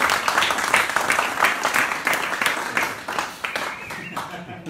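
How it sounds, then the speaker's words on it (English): A small party crowd gives a round of applause during a home game of Play Your Cards Right, scattered hand claps with cheering voices mixed in over nearly five seconds, moderately loud and uneven. "Can we have a round of applause for Ange?"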